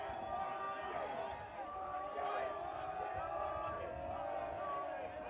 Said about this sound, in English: You can hear the UAlbany bench and crowd getting into this one.